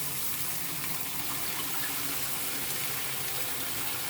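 Tap water runs steadily over collard greens being rinsed in a kitchen, a continuous close gushing splash with no break and no talk.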